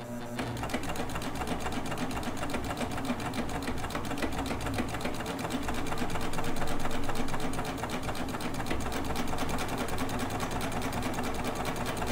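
A serger sewing machine runs continuously while stitching kimono fabric, a steady rapid mechanical whirring with a fast needle chatter that swells slightly midway, close and alone.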